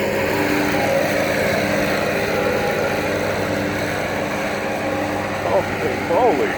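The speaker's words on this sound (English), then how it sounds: "Attack the guy on the riding lawnmower, please." A riding lawn mower engine runs steadily throughout, a loud, continuous drone close by, with voices talking over it toward the end.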